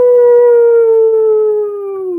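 A human voice imitates a wolf howl, a single sustained, close, loud tone that slowly falls in pitch over about two seconds, with no other sound around it.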